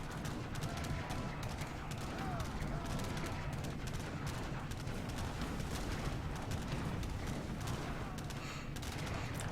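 Artillery and musket fire in the video game Age of Empires III during a treaty match, heard as dense, continuous crackling volleys and booms at a distance with no letup.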